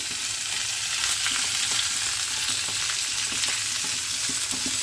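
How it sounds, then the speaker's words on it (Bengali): Pui data, Malabar spinach stems, frying in a pan with a continuous sizzle and a run of light scraping taps as the vegetable is stirred. "এবারে আবার ভালো করে নেড়ে দিই।"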